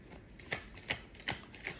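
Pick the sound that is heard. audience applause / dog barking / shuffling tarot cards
shuffling tarot cards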